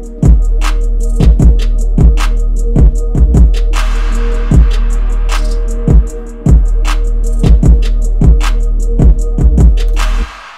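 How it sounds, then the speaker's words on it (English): A hip-hop beat built from a reverb-soaked arpeggio loop and crisp drums, now underpinned by a heavy sustained 808 bass that drops out briefly near the middle; loud and dense, purely instrumental. "Right after that, I added some 808s."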